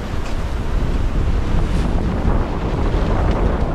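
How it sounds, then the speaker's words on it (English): Strong North Sea winter storm at sea aboard a sailboat, with roaring gale-force wind buffeting the microphone and crashing waves, a dense, loud, continuous rush with no voices. "The winds are building to 40 knots."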